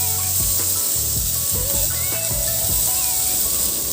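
Chopped onions and cinnamon sizzle loudly in hot oil, a close, steady hiss with a few low clanks from the pan and a voice speaking over it.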